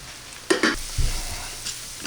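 Flour being stirred into sautéing onions in a pot for pot roast gravy: a few quick scraping stirs and soft thuds over a faint, steady sizzle, close and fairly quiet.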